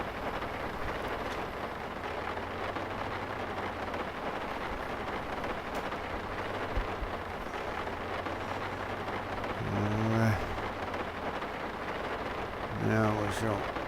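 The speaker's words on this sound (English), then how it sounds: "Still got the thunderstorm well into the afternoon now," Steady rain and a thunderstorm in the farming game Farming Simulator 19, a constant wash of rainfall throughout with a low rumble of thunder; a voice talks over the weather in stretches.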